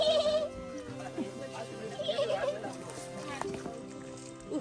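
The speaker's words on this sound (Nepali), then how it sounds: "कतिवटा छ बाख्रा" Goats bleating at a family home visit, several calls rising over a busy background with children and adults talking throughout.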